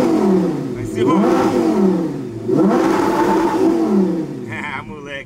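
A car engine revs up twice in strong rising surges, each climbing and falling back, loud and close. Voices speak briefly between and after the revs.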